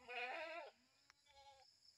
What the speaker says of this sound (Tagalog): Kumusta mga kambing?